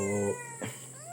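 A kitten meows once, a short nasal cry close by, while a steady electronic whine and hum sit underneath.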